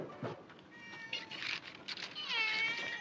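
A cat in a 1944 David Lean film meows repeatedly in drawn-out, wavering cries, fairly close and moderately loud, a few distinct calls following one another with short gaps and no talking.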